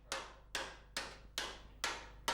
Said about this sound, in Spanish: a golpe de martillo, dar la curvatura a la boca del fondo